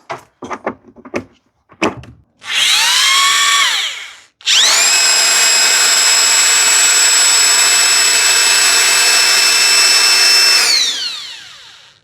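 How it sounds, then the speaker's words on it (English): A corded 550-watt Bosch hammer drill, powered by a portable LiFePO4 power station, starts with a few short triggers, revs up briefly, stops, then runs loud and steady for several seconds before spinning down. "we're gonna try the Bosch hammer drill, 550 watts"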